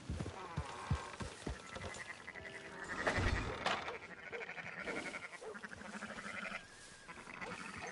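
Sheep bleat repeatedly in Red Dead Redemption 2 over a busy backdrop of farm noise and clopping hooves, with a louder burst of bleating in the middle.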